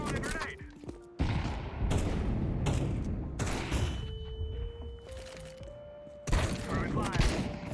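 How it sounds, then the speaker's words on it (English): Rapid bursts of gunfire crackle between sustained tones in a kobold-themed shooter game, with a heavy grenade blast and more firing near the end; loud and dense, with voices talking over parts of it. "I'm throwing a grenade."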